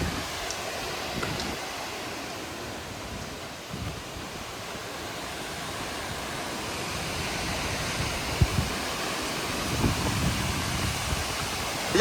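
Ranpat waterfall in the Konkan region pours down in a steady, full roar of falling water that stays fairly even throughout, with no voices over it.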